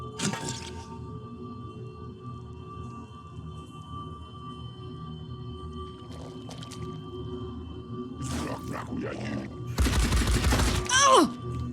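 Gunfire trades back and forth in the tactics game Phoenix Point, starting with a brief burst, then scattered shots and a loud dense volley near the end over a low steady ambient hum.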